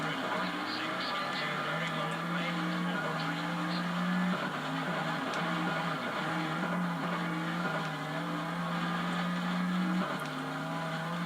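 Rally car engine droning steadily in WRC II Extreme on PS2, a sustained mid-pitched hum with shifting tones as the car runs onto grass, with a voice talking over it.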